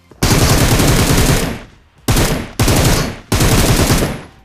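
An M762 assault rifle fires in PUBG Mobile in four loud sustained bursts of rapid automatic shots, close and continuous, separated by short pauses.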